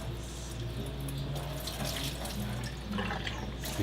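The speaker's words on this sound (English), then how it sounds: "I then use just distilled water" Distilled water runs steadily while a vinyl record is rinsed clean, a continuous soft splashing flow with faint trickles and drips over a low background hum.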